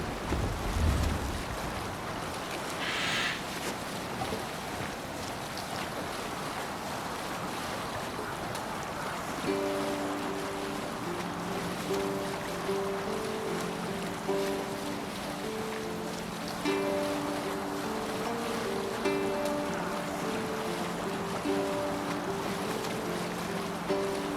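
A sailing longship at sea in Assassin's Creed Valhalla, with steady wind, waves and water rushing against the hull, a low creaking and droning tone joining partway through.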